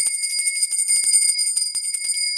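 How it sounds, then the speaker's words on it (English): Small bells rung to clear the energy of a space, high bright tones jingling in rapid continuous repetition, close and clear with no talk. "ringing the bells in the space, clearing the energy constantly"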